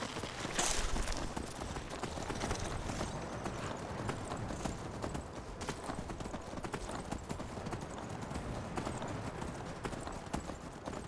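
Modded horse hooves clip-clop steadily in a video game, a continuous rapid trotting rhythm at low volume throughout, with no talk over it.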